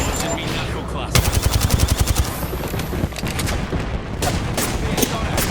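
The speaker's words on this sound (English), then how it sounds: "Getting shot at." Video game gunfire in Apex Legends: a rapid, evenly spaced automatic burst, then more scattered shots and another quick volley over dense game sound.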